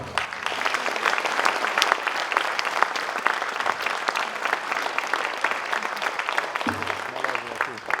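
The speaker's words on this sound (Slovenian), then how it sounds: "zato res vas povabim vse prisotne za en lep aplavz prav njim za to pripravo." Audience applause at a regional children's choir gathering in Ormož, Slovenia, a steady dense clapping from a hall crowd lasting throughout, with a brief voice near the end.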